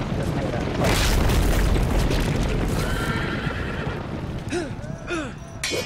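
Horses neigh and whinny in the Game of Thrones Telltale video game, a few sharp repeated whinnies near the end following a rumbling, booming stretch with hoof clatter.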